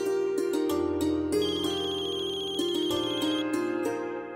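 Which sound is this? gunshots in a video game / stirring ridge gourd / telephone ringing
telephone ringing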